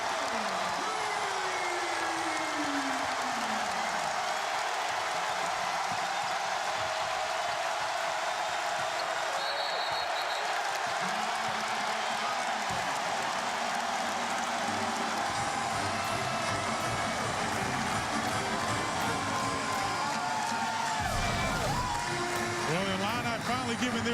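A basketball arena crowd roars and cheers in a sustained, loud wash after Nunn's lefty jumper for Illinois against Iowa, with a commentator talking over the din throughout.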